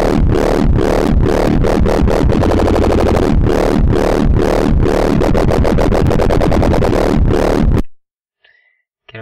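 A loud wobble bass synth patch built in LMMS pulses in a steady rhythmic wub for about eight seconds, then cuts off abruptly into near silence.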